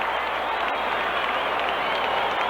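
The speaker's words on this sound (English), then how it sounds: "And you'll hear the crowd roar on this next out." Baseball stadium crowd at a 1964 Yankees pennant-clinching game, a steady, loud roar of cheering and applause filling the whole stretch without a break, heard in an old radio broadcast.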